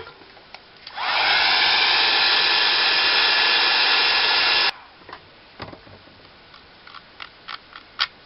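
A craft tag being dried with a heat tool, a loud steady blowing whir that starts abruptly, runs about four seconds and cuts off, followed by scattered light taps and clicks of handling.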